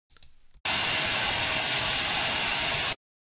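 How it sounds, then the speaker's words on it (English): A spirit box held on one station hisses loud, steady white-noise static for a little over two seconds, cutting in abruptly after a brief clicking start and stopping dead. "I have it only on one station playing white noise"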